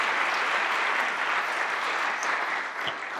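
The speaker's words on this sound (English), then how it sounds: "Let's give a round of applause for that." Steady theater audience applause at a Shakespeare monologue and scene contest, a dense wash of many hands clapping continuously at moderate volume, with no talking over it.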